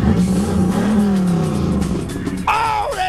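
A car engine revs up and settles close by, its pitch climbing and falling, then a sharp, brighter rev burst near the end, with no talking.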